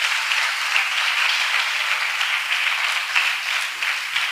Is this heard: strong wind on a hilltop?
no